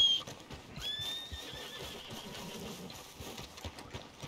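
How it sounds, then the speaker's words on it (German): A horse in the video game Red Dead Redemption 2 gives a faint, drawn-out whinny amid quiet clip-clopping hooves and soft ambient game sound. "Pferdchen."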